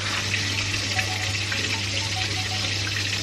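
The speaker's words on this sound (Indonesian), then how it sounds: "ini ada Mama lagi goreng tahu" Tofu frying in hot oil in a home kitchen during holiday cooking, a steady dense sizzle and crackle running unbroken throughout with a low hum underneath.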